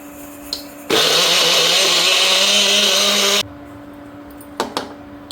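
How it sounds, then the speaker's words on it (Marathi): A kitchen mixer grinder whirs as it blends grated coconut, cumin, turmeric and water into a paste. It runs as one loud, continuous, close high whine for about two and a half seconds, then stops, leaving faint clicks and quiet kitchen background. "यात थोडं पाणी घालते मिक्सरला वाटून घेते"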